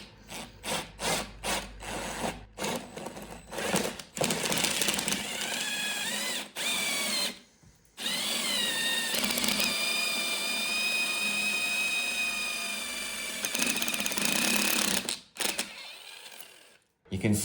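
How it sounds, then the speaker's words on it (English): A small impact driver bores into a solid brick or block wall for a TV bracket, with repeated short bursts, then long whining, grinding runs broken by brief pauses, close and loud, with a voice speaking in places. "we're going to see how well our little impact driver can drill into our solid brick or block wall"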